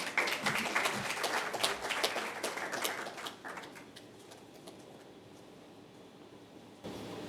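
Round of applause from an audience at an entrepreneurship week event, scattered hands clapping for a few seconds, then fading to a quiet room tone.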